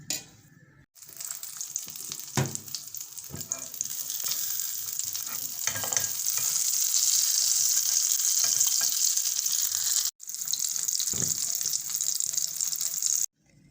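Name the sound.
kebabs of chana dal frying in oil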